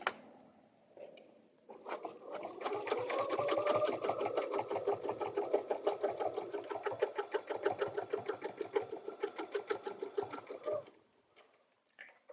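A sewing machine stitching a paper-pieced butterfly dresser scarf runs in a steady, rapid mechanical chatter for about nine seconds, close and clear, then stops.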